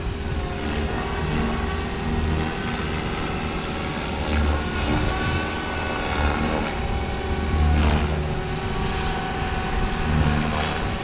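A SAB Kraken 580 model helicopter, retrofitted with a secondary shaft, flies on its maiden run, producing a loud, continuous rotor-and-motor whine with a steady buzzing drone throughout and no talking.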